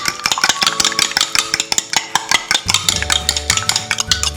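Egg is mixed into scone batter in a bowl, giving rapid, close, rhythmic clinking and scraping as a utensil beats against the bowl, with faint background tones but no talk.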